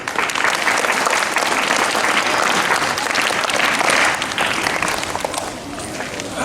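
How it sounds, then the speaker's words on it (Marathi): A school crowd at Tilak Vidyalaya, Dhantoli, Nagpur, claps for its own students at an Independence Day gathering, a loud, dense wash of applause that holds steady and then eases off near the end. "म्हणून तुम्ही सगळ्यांसाठी स्वतःसाठी टाळ्या वाजवा."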